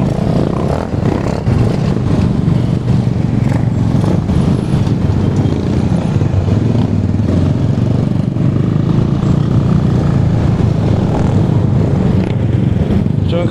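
Motorcycles in a group unity ride in Bohol give a loud, continuous engine drone and road rumble that stays close and steady throughout, with no clear speech.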